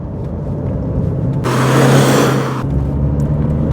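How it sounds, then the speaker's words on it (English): A 206bhp Skoda Yeti accelerates hard, a rising burst of engine roar and rushing noise lasting about a second over a steady low rumble from inside the car. "I was just tickling the throttle and she's away."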